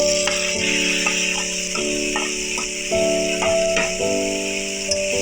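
Boiled taro stolons (kochur loti) go into a pan of sizzling fried spice mix, giving a steady, close frying hiss with soft tonal music running underneath.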